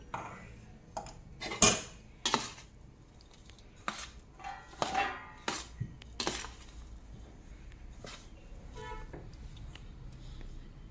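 A spoon scrapes and clinks against a pan while ghee is stirred into a gum ladoo mixture, giving scattered sharp knocks and taps at an irregular pace, fairly close and otherwise quiet.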